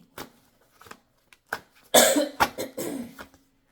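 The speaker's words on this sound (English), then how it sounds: "I'm trying to clear my throat" A few short coughs followed by a harsh, raspy throat clearing, close and fairly loud, with no talking.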